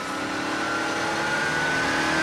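Eurocars racing cars at the Brands Hatch circuit, 1997, a steady mid-pitched engine drone that builds gradually in loudness as the cars pass, sustained and fairly close, with no one speaking.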